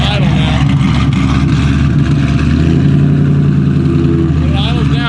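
A freshly built Ford Mustang GT V8, running slightly hot after its first start, idles with a steady, loud, lumpy burble close by, the revs drifting a little as it settles.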